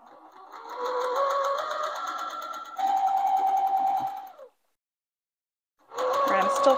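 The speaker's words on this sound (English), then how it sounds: "with a 1/4 inch seam, we're going to sew them together" Sewing machine stitching quilt rows together with a 1/4 inch seam, running in two steady bursts of needle hum, pausing briefly, then starting again, close and loud with no talking.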